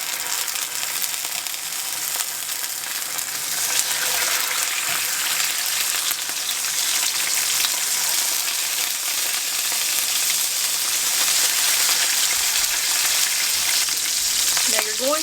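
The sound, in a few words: salmon searing skin side down in a hot pan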